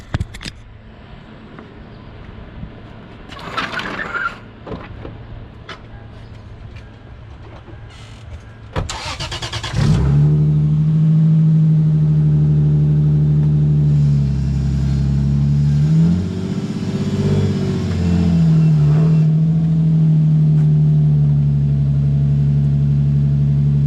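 A Lexus IS300 fitted with an angle kit cranks and fires up after a quiet stretch of scattered clicks, then settles into a loud, steady idle with one brief rise in revs before falling back.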